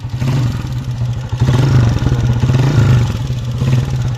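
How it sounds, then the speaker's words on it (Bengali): A Japanese-made Honda CG 125 motorcycle engine runs close by with a steady, low, thumping idle and a slight rise in revs partway through. "ওভারঅল বাইকের সাউন্ডটা শোনেন,"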